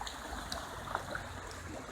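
A small man-made waterfall and muddy stream in The Den, Kirkcaldy, flowing with a steady broadband rush of water, moderately loud and continuous with no talk over it.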